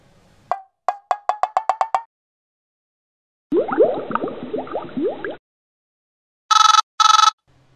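A phone dialing and then ringing as a call is placed, opening with a quick series of short beeping tones, a burst of bubbly ringback sound, and finally two loud electronic rings, all clean and close with silences between.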